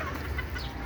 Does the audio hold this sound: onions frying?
no